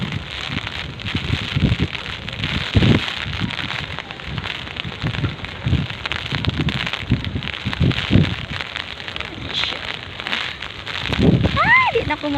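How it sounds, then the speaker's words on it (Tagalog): Strong wind and rain from Super Typhoon Odette in Pool Bankal, Lapu-Lapu City, Cebu, a steady broadband roar with gusty surges throughout, while someone talks over it in bursts. "ag hangin mayroong kusuga."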